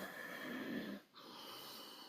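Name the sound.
voice imitating an angry snorting sound through the nose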